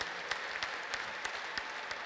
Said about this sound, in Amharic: አጨብጭቡ ደግማችሁ